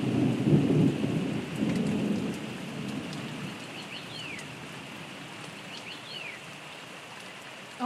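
A severe summer thunderstorm: a deep rumble of thunder rolls through the first few seconds over steady pouring rain, then the rain continues alone with a few bird chirps breaking through.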